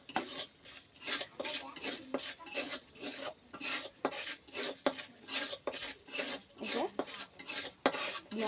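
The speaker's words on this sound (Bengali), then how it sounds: "হলুদের গুঁড়ো দিয়ে দেব, দিয়ে মশলাটা ভালোভাবে কষাই নেব" Spice masala with salt and turmeric is stirred in a pan for a chicken and bottle gourd curry, making rhythmic, repeated scraping strokes of a utensil against metal, about one per second, with a faint sizzle underneath.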